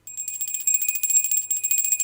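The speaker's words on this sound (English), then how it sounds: "we do the bells. That cleanses the space." Small bells rung in a space-cleansing ritual before a tarot reading, bright sustained high ringing tones shimmering continuously for two seconds, close and clear with no voices.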